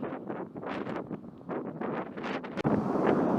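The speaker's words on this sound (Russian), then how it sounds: "Так что буду против ветра наваливать." Strong gusting wind buffets the microphone of a cyclist riding into a headwind in Japan, roaring in uneven surges that rise and fall, close and loud, with a sharp dip before a final heavy blast.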